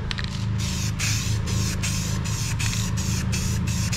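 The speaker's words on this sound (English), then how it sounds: "So now I'm gonna just put some paint back down on it" A spray gun lays fresh paint over old runs on a golf cart body, a close, steady hiss with regularly pulsing bursts over a constant low hum, with no talking.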